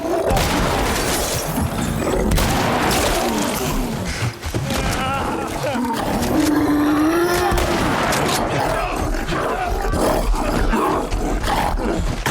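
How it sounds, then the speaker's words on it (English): Shotgun and rifle blasts fired at a bloater in The Last of Us Part 1, a dense run of loud overlapping shots mixed with the creature's roars and growls. "equip the shotgun and the rifle and then proceed to shoot it to death"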